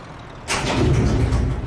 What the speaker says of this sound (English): I've got a feeling a truck just came right up to me, or a car.